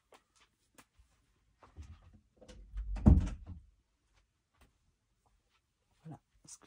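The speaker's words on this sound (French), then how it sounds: "je vais fermer la porte parce que ça fait du bruit." An indoor door is pushed shut with a soft thud and short rattle, followed by a few faint knocks in an otherwise quiet room.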